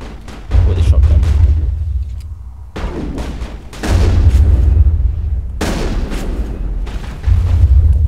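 Heavy booming shotgun blasts from the video game Mass Effect, several loud deep shots spaced a second or two apart with rumbling tails, a voice talking underneath.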